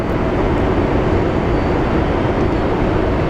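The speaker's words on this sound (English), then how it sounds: "So A350 coming in any minute." An Airbus A350 airliner arrives at Phoenix Sky Harbor airport, a loud, steady, broadband engine roar filling the whole stretch without pause or voices.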